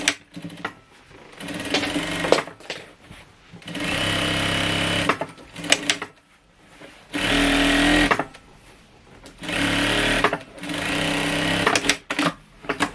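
A sewing machine stitches a lace-trimmed pillowcase in several bursts of fast, buzzing whir, each lasting a second or two, separated by short pauses and handling clicks. The machine is close and fairly loud.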